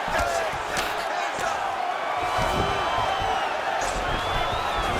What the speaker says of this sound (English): crowd absolutely loving it as the fighters, however compromised, make their way back to the feet